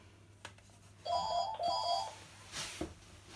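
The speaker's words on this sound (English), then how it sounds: "Oh, my phone's ringing." A short electronic ringtone trills twice in quick bursts, fairly faint, amid quiet room sounds and a few clicks.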